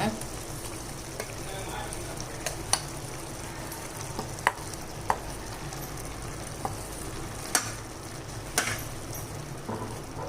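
Jaggery is stirred into pumpkin nut halwa cooking in a pan, with steady soft sizzling and bubbling and a few sharp spoon clicks against the pan, close and moderately quiet.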